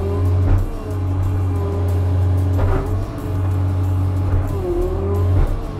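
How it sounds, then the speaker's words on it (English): Engine of a Cat F2 backhoe loader running loud and steady with a strong low hum, rising in a few brief revs as the RPMs are turned up while the machine clamps down on a rock. "I'm going to turn up my RPMs here"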